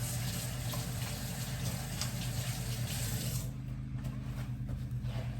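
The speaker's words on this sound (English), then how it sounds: "First, I'm washing my hands." Hands washed under a running kitchen tap, a steady close rush of water splashing into the sink that shifts in tone partway through as the hands move, with no talking.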